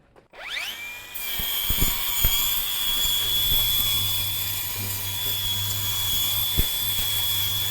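A Milwaukee M18 cordless power tool running on a new XC5 battery spins up with a rising whine and keeps cutting with a loud steady high-pitched drone, broken by a few sharp clicks and knocks.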